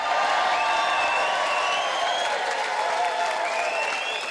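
A comedy club audience at Benidorm Palace cheers and applauds loudly and continuously, with whoops and shouts riding over a dense wash of clapping.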